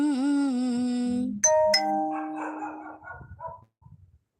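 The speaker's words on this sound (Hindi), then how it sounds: "आप लोग लाइव में कुत्ते भौंक रहे हैं" A dog barks once loudly and close, a sharp single bark cutting across a woman's Awadhi folk singing, followed by a few faint fainter sounds as the song trails off.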